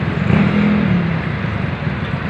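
Cars in heavy night traffic, one vehicle's engine surging loudly up close at first, then easing into a continuous roadway hum.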